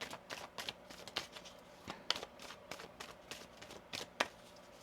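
A tarot card deck is shuffled close up, with quiet, repeated riffling and tapping bursts in an uneven rhythm and no talking.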